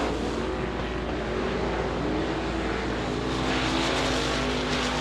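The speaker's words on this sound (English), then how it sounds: "we got three cars going at it for a lap and a half now" Modified race cars at Devil's Bowl Speedway roar continuously as several battle side by side, a loud, dense engine drone that swells slightly toward the end.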